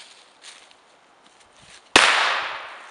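Bo-Peep pyro cracker firecracker exploding outdoors, quiet faint rustling then one sudden sharp loud bang with a lingering crackling decay.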